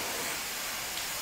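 Murukku dough fries in hot oil kept at moderate heat, producing a continuous, even hiss of bubbling oil at close range, with no talking.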